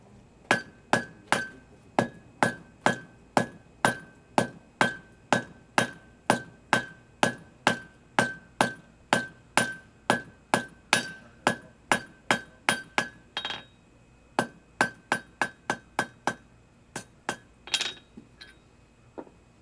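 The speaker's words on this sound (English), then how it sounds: "we're going to make a long tapered square point on the end of the bar" A hammer strikes a hot iron bar on an anvil, drawing it into a long tapered square point, with over thirty sharp ringing metallic blows in a steady rhythm that slows and spaces out near the end.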